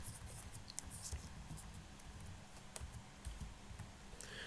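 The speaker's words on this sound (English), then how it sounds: "now I type here iVerilog" A command is typed on a computer keyboard in a terminal, heard as faint, quick, irregular key clicks over a low background hum, close by and with no voices.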